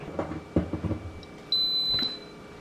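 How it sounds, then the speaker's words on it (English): A Simfonio Simpot 8-quart electric pressure cooker gives a single clear electronic beep of about half a second as it is plugged in, following some soft handling noises. "As you can see, as soon as I plugged in, it beeped."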